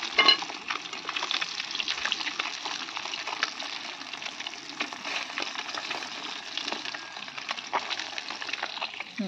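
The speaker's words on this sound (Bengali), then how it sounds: "যতক্ষণে মাছগুলো ভাজা হতে থাকুক" Pieces of Bhola fish fry in hot oil in a pan, giving a steady, dense crackling sizzle with small pops throughout, close and fairly loud.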